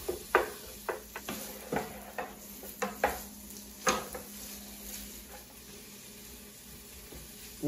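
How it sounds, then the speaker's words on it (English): Ground beef for tacos sizzles in a pan while a spoon chops and stirs it, giving a run of sharp scraping clicks against a steady soft frying hiss, close up with no talk. "Chop this up with your spoon. Cook it as if you were making tacos."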